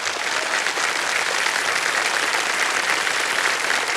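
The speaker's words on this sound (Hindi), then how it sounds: "तालियां बज जाए इनके लिए।" A studio audience on a televised quiz show breaks into sustained applause, a steady and full wash of clapping that holds evenly throughout with no voices over it.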